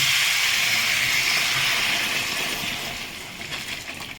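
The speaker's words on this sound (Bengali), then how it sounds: "আমি সামান্য গরম পানি দেব।" Hot water poured into a pan of sizzling fried potatoes raises a loud, steady steam hiss close by, which fades slightly toward the end.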